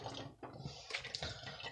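Water pours briefly into a small color-changing globe toy, a close, quiet trickle and splash lasting under two seconds.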